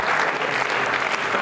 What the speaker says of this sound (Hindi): तालियां बजाई इन दोनों आदित्यों के लिए